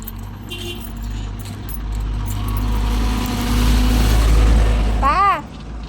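Motorcycle keys jingle and clink while being searched for, with an engine humming steadily nearby, then a short burst of metallic jangling near the end.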